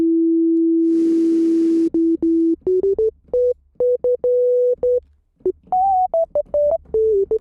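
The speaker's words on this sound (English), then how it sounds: "I feel like a soft kind of sine type lead would be nice." A soft sine-wave synth lead plays a pure, clean tone, first held steadily, then broken into a sequence of short notes stepping up and down in pitch, with a brief burst of noise near the start.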